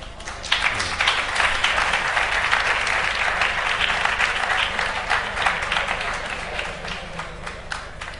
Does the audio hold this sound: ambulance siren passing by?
no